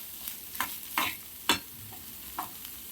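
A spoon stirring and mixing a simple horse gram (ulavalu) dish in a pan on the stove, with several distinct scraping strokes over a faint sizzle, no talking.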